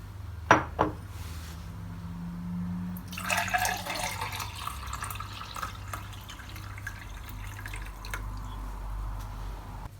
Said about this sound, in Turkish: Şimdi limonatamızı bardağımıza servis edelim.